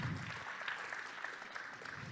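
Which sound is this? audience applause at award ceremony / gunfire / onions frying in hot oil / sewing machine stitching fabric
audience applause at award ceremony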